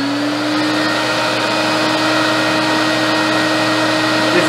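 An Electrolux model 2100 vacuum cleaner runs close up with a loud, steady whine and a sustained tonal hum that holds unchanged for the whole stretch, with no talk.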